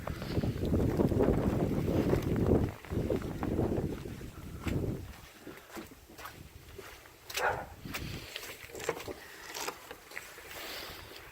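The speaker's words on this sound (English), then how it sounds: "as the wind picks up" Wind during an autumn snow storm, a gusting rumbling roar buffeting the microphone, strong at first and then easing into scattered softer bursts and patters.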